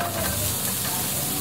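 Garlic and onion sizzle steadily in hot oil in a pan, a dense continuous frying hiss with faint stirring, close and alone without any voices.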